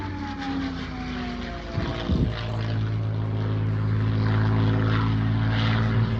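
A P-51 Mustang propeller fighter passes at an air show with a steady, droning engine roar and propeller hum that swells slightly louder toward the end.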